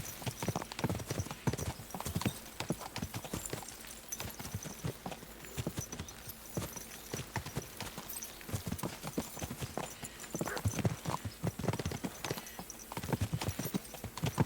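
Horse hooves clip-clopping in a steady, continuous rhythm, fairly quiet and unaccompanied by speech.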